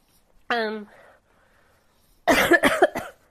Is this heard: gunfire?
no